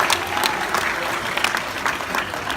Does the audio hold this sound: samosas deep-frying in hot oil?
no